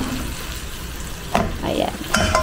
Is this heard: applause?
no